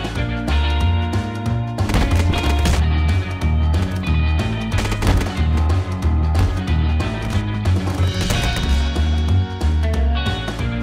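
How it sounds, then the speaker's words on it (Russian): Heavy, continuous machine-gun fire from a Back 4 Blood player's new weapon, dense and loud with a rumbling low end, layered over game music and clatter for the whole stretch. "Я пулеметчик, а это мой новый пулемет."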